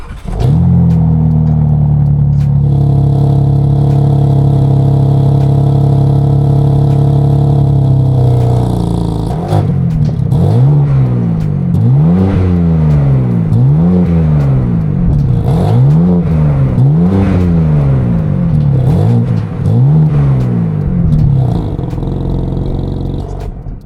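A BMW G82 M4 Competition engine idles with a steady low drone, then revs repeatedly in rising and falling sweeps, loud and close, with no talking.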